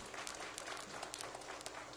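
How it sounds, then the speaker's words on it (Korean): Applause from a church congregation after a call to clap for God before the first hymn of praise, a faint, distant wash of many hands with a few sharper claps standing out across two seconds. "그래서 첫 찬양 하나님 앞에 박수 드립니다"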